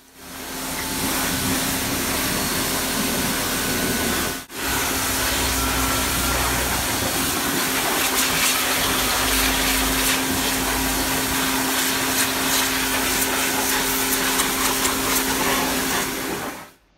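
Pressurized water spraying steadily while a car engine is washed under the hood, a loud continuous hiss with a mechanical hum beneath it, broken by one brief dip partway through.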